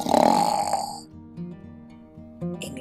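A cartoon bear snoring in its cave, a loud rasping inhale followed by softer, drawn-out rumbling breaths and a short snort at the end, heard alone without speech.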